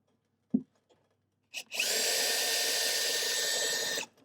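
A power tool pulls a bolt from a Sega OutRun arcade cabinet, starting with a couple of soft knocks, then a loud, steady whirring drive that runs for about two seconds up close before stopping.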